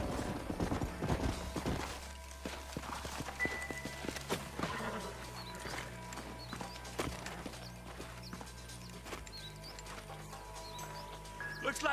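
Horses' hooves clop in the Red Dead Redemption video game, quiet and irregular against a low ambient hum, with occasional snorts and faint background game sounds.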